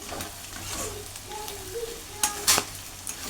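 Boti, goat tripe, fries in a pan with a soft continuous sizzle while a utensil stirs it, scraping and clinking against the metal in a few louder bursts.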